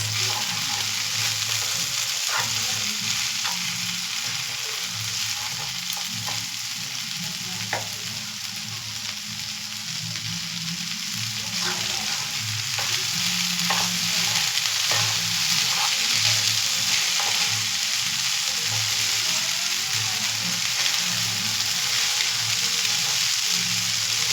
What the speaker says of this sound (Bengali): ভালো করে নেড়ে ছেড়ে হালকা ফ্রাই করে নিলে রেডি হয়ে যাবে ভেজ হাক্কা নুডলস।